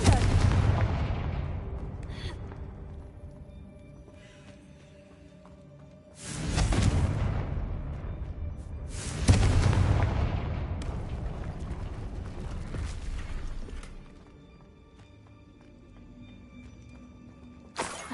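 Confringo explosive spell cast in the video game Hogwarts Legacy, heavy booming blasts erupting loudly three times, each decaying into a long rumbling tail, with no voices.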